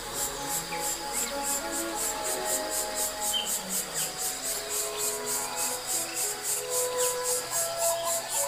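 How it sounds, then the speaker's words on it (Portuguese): Crickets chirp in a fast, regular pulsing trill by a river on a summer day, steady and fairly close, with faint birdsong and other insect calls scattered behind it. "Há muitas cigarras aqui, muitos grilos cantando também, a gente ouve, né?"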